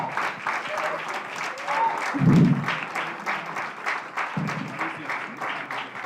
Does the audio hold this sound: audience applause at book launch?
yes